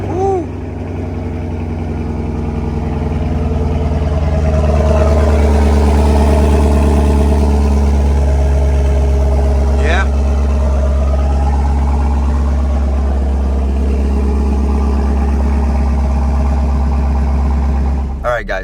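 A deep, rumbling 6.2-liter pushrod V8 in a 2021 Chevrolet Camaro with MPP performance exhaust idles steadily with a throaty exhaust burble, close and loud, with someone speaking briefly over it.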